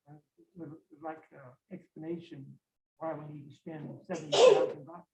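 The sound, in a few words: sneeze during meeting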